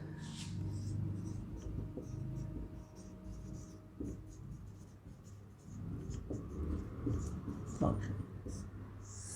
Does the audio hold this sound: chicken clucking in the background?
no